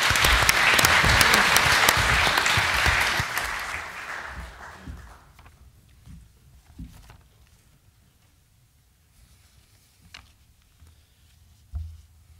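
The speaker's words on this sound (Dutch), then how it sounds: "Graag een applaus." Audience applause in an Amsterdam hall before a speech, a loud, full round of crowd clapping that fades out over about four seconds into a quiet room with faint shuffling and a few small knocks.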